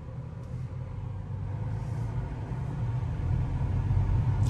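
A BMW's engine restarting through its automatic start-stop system, a low, steady rumble from inside the car that swells gradually louder, with no talk over it.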